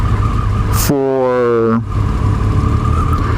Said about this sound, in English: that's kind of a confused traffic here, many tourists